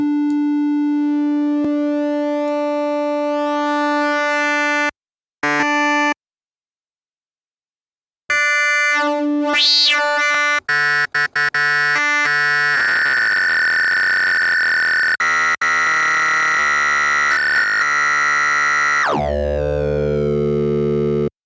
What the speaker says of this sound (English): Let's listen to oscillator 1 being frequency modulated by oscillator 2.